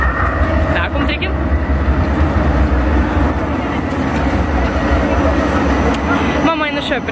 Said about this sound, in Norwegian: Der kom trikken.